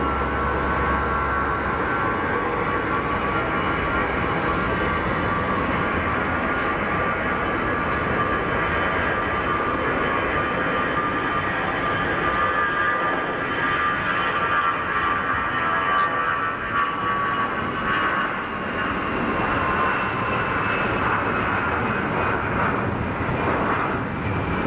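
EasyJet jet airliner at Geneva Airport during a go-around, engines at high power: a loud, steady roar with whining tones that lasts throughout, close and continuous.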